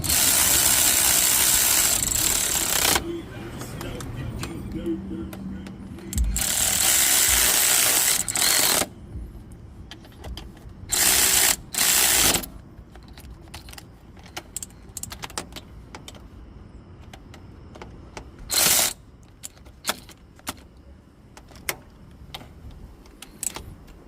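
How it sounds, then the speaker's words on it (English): A ratchet tightens bolts on a power steering pump install on a 1992-1996 Ford F-150 4.9L. Close, bright bursts of rapid clicking are separated by pauses and quieter handling noises. "We tighten up the bolts."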